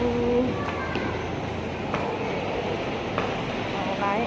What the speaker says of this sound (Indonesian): Naik kereta api.